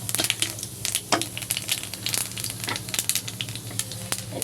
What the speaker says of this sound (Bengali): তেলের ভিতরে আমি কালো জিরে দিয়ে দেবো